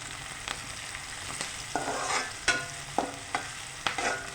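Okra and tomato curry with turmeric is stirred in a frying pan, a steady sizzle broken by repeated sharp scrapes and knocks of the spoon against the pan.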